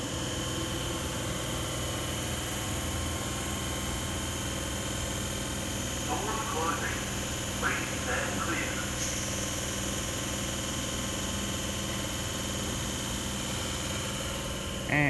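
Train K70 idles at Padstow station as it departs, a steady mid-to-low engine drone with humming tones, a few faint squeaks partway through.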